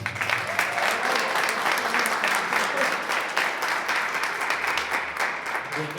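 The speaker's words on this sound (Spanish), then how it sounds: "Un aplauso para Esteban" An audience at a book presentation gives steady, full-room applause, a thick continuous clatter of many hands that stays loud and even throughout.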